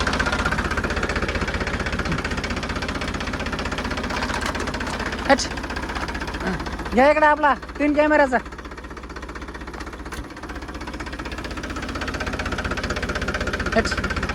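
A tractor engine runs steadily in a river, a continuous mid-pitched chugging under water splashing, while people talk nearby over the noise.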